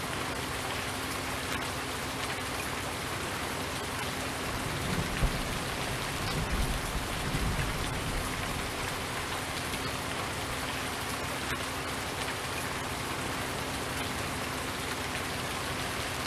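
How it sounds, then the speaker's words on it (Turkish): Steady, dense rainfall in Farming Simulator 19 hisses continuously, with a faint low rumble that swells briefly midway. "Maşallah iyi yağmur yağıyor ha. Harbi iyiden yağıyor."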